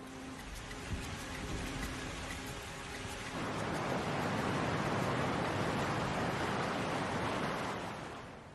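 Heavy rain in the Ecuadorian Amazon, a dense broadband hiss that thickens partway through into a louder, fuller downpour, steady and enveloping with no voices.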